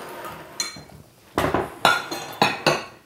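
A scalloped metal bath bomb mold clinks and taps, with several sharp metallic knocks spaced irregularly, close up and with no voices.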